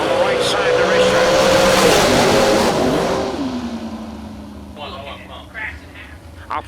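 Drag race cars roar down the track at a high-stakes drag racing event, a loud sustained engine howl that fades as they pull away, with an announcer talking over it.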